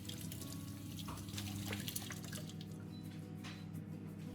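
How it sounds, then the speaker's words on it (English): Tomatoes rinsed under a running kitchen tap, a steady close stream of water splashing into the sink with small drips, continuous throughout and with no talk. "rinse the tomatoes thoroughly under running water to remove all remaining dirt and"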